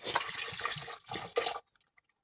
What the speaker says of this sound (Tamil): அதோட பருப்பு வேகிறதுக்கான தண்ணியும் ஆட் பண்ணிக்கலாம்